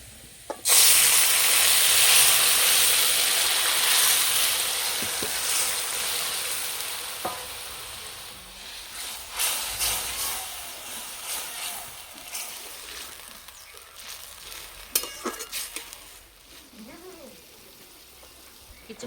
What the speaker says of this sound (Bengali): রসুন ভাজা হয়ে গেছে, খুব সুন্দর একটা গন্ধ বেরিয়েছে। এবার শাক দিয়ে দেবো।